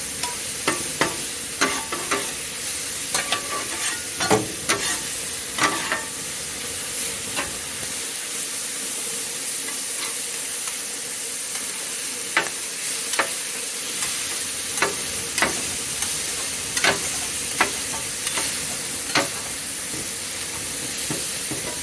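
Sliced cheesesteak beef and vegetables frying in a hot pan, a continuous close sizzle and hiss punctuated by frequent sharp scrapes and clicks of a spatula turning the meat, with a brief quieter stretch midway.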